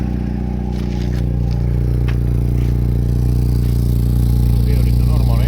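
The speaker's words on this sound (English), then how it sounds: "That sounds like exhaust leak" A Mercedes SLK 230 with a new muffler and an exhaust leak toward the rear runs steadily with a loud low rumble and uneven raspy ticking layered over the drone, close by.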